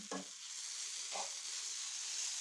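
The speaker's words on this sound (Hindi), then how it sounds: "आलू फ्राई होना शुरू हो चुके हैं" Potatoes fry in a pan for an egg-and-potato dish, giving a steady, fairly quiet sizzle with two brief stirring scrapes near the start.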